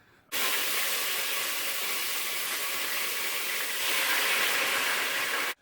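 Loud, steady sizzling hiss of marinated chicken frying in hot oil, broadband and continuous, swelling slightly louder toward the end before cutting off.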